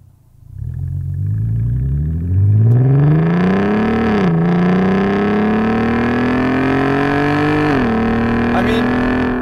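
A modified VR6 Audi TT Quattro roars close and loud as its engine climbs in pitch through sustained acceleration, with two brief dips where it shifts before pulling upward again.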